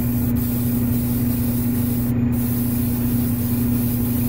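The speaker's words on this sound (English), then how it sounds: "Got it loaded up in my Iwata HPTH, and we're gonna make sure to blow this off and get as much dirt off as we can" An Iwata HP-TH airbrush blasts air to blow dirt off a painted piece before top coat, a loud, continuous hiss of compressed air with a steady low compressor hum underneath and one brief pause.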